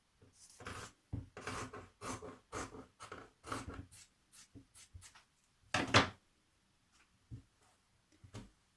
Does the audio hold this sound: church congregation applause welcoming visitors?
no